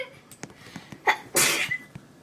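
A single loud, close sneeze bursts out after a few faint clicks and background sounds, followed by quieter trailing noise.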